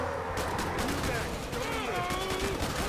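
Dense gunfire and explosions in Killing Floor 2 combat, a continuous loud barrage of rapid shots and blasts, with a voice talking over the top.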